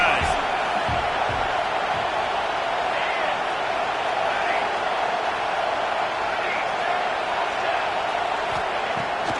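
A steady, unbroken roar of a stadium crowd at an NCAA 26 college football game hums at a constant level, broad and distant, with a few faint thuds.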